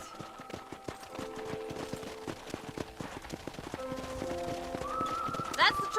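Horses in the Western video game Red Dead Redemption, with steady clip-clop hoofbeats throughout and a neigh near the end, heard under someone speaking and a soft game background.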